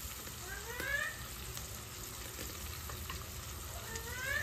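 Ginger-garlic paste fries in a pan with lightly fried potatoes, a faint, steady sizzle broken by occasional stirring scrapes, heard quietly and alone.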